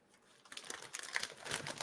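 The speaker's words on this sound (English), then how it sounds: "I'm over here just hearing you typing on the keyboard." Soft clicking of keys on a computer keyboard, faint and somewhat distant, in a quick uneven patter that grows a little busier toward the end.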